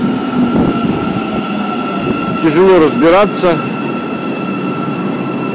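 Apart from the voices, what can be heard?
Istanbul metro train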